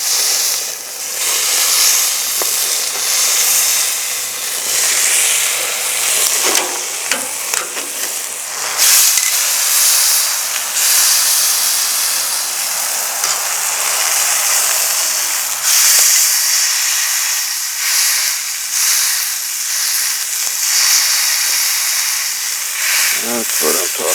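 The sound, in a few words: food searing and sizzling in a park grill pizza oven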